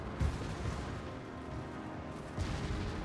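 Naval shellfire and airstrikes in World of Warships, heard as a continuous rumble of battle with deep booms hitting near the start and again near the end, moderately loud with no talking.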